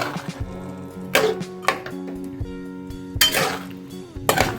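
A pan holding green beans and whole tadka is shaken over the flame, giving several loud metallic clanks and scrapes at irregular moments over a steady low hum, with no voices.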